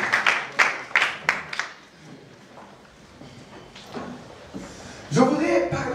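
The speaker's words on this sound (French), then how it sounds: "On applaudit la parole du Seigneur." Church congregation at a women's convention clapping in a few short, sharp bursts near the start, then fading into quiet room noise before a voice begins speaking.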